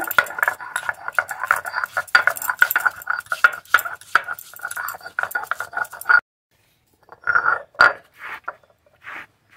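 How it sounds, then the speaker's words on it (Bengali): Ginger being ground into a paste for a vegetarian masala, a steady rhythmic scraping and grinding that runs loud and close for about six seconds, then stops and returns in a few shorter bursts. "আদা বেটে নেব।"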